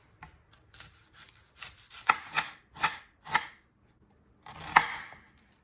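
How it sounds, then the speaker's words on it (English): A knife chops an onion on a cutting board for chicken fajitas, about eight crisp, irregular thuds and slices, close and fairly quiet, with short pauses between cuts and no talking. "Chop up an onion."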